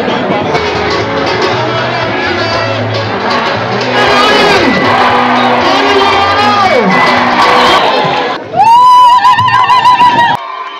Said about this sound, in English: Hands together for all the graduates from the School of Public Health and Environmental Sciences